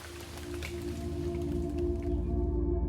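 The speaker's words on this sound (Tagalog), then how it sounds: "Sumalubong sa kanila ang medyo mahina pang ulan" Light rain falls steadily, a soft continuous patter with scattered drop sounds over a low rumble, gentle and fairly faint throughout.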